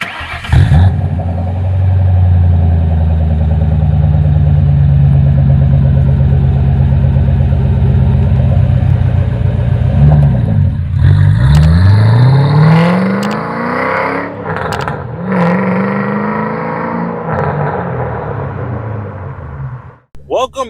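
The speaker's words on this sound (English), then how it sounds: "some good old raw exhaust notes" A 1998 Mustang Cobra's exhaust drones loudly at idle, then revs up and down in rising and falling sweeps before cutting off near the end, heard close and raw with faint voices.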